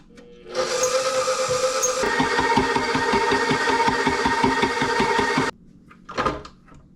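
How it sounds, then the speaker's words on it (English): An electric mixer creams butter at medium speed for chocolate buttercream candies: a loud, close, steady motor whir with rhythmic beater pulses that runs for about five seconds, then cuts off and is followed by a brief clatter. "we are going to cream the butter on about medium speed for 2 minutes"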